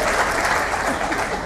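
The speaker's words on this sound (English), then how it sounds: "Give the gentleman a round of applause for doing that." A cruise ship audience applauds a gentleman in a dense, even burst of clapping lasting a second and a half, with no speech over it.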